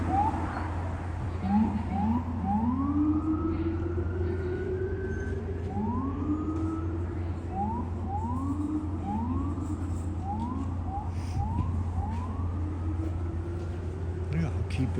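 An emergency vehicle siren, first taken for an ambulance, wails in rising sweeps throughout, steady and fairly loud over a low constant engine hum, with a person talking at times.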